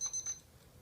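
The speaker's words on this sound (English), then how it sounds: "Oh, there's my timer." A kitchen timer goes off during oven roasting of yellow peppers, giving a quick series of faint, high electronic beeps in the first moments before falling quiet.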